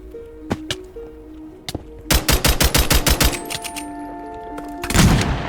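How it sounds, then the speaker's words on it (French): Game gunfire in Minecraft: a few scattered shots, then a rapid burst of automatic fire, followed by more sporadic shots and a louder blast at the end. "On va tirer, il va tomber des coups de feu."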